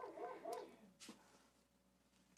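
A dog heard a little way off, giving a couple of short muffled barks and a soft whimper, faint and spaced out against a quiet room.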